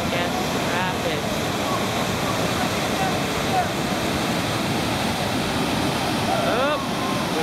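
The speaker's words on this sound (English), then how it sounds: "This is one of the more difficult, I guess, rapids." Whitewater rapids on the Chattooga River rush in a constant dense roar of churning water, with wind buffeting the microphone and faint voices in the distance.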